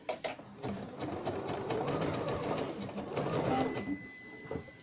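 A home sewing machine with a faulty foot control runs in uneven bursts, its needle chattering rapidly and loudly up close, speeding and slowing throughout with a faint tonal whine near the end.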